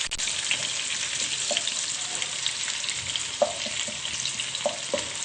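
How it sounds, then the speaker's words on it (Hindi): Onions sautéing in hot oil for Manchurian sauce, a dense, steady, loud sizzle with a few soft stirring knocks, close up and with no talking. "इसमें हम पहले प्याज डालेंगे, हल्के से इनको सौते करना है"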